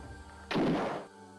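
A single heavy gunshot blast fired in the video game Alone in the Dark 3, loud and booming with a short decaying tail, standing alone.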